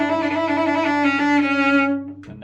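A cello sustains a low C played without the string extension, coming out as the wrong note: a single steady, bowed, buzzy low tone held for about two seconds, then cut off with a short scrape, no talking.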